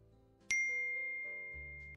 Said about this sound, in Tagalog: Nagising ako sa tunog ng aking phone.